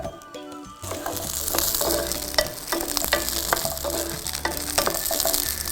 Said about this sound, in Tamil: இந்த சின்ன வெங்காயம் கொஞ்சம் ஒரு டிரான்ஸ்பரண்ட் கலர் ஆகிற வரைக்கும் நம்ம இதை வதக்கிக்கலாம்